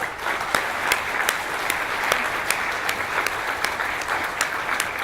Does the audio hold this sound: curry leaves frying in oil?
no